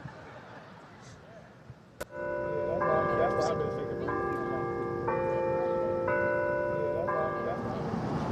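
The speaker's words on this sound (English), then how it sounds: "You ever wondered, like, who's up there ringing the bells?" Church bells on a campus peal out loudly after a sharp knock, with stacked ringing tones shifting in steps as successive bells strike over several seconds, sustained and fairly close over a low background murmur.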